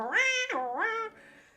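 A cat gives two close, clear meows in quick succession, the first longer and rising, the second shorter, trailing off into quiet.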